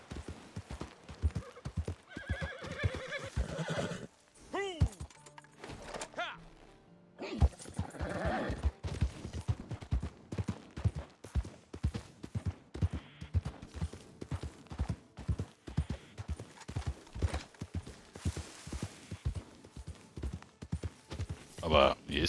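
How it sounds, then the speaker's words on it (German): Horse from Red Dead Redemption 2 whinnies loudly, then steady hoofbeat clip-clop gallops on, continuous and close, with talk over it. "Oh Gott, mein Pferd haut ab."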